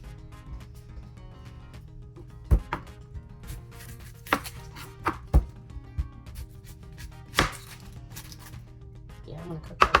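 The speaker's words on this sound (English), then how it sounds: "I've already cut up some onions. I think I'm gonna cut up one more." A knife chops through an onion on a cutting board while making a breakfast casserole: irregular, sharp, close-up chops with a few louder strikes, over a low kitchen hum.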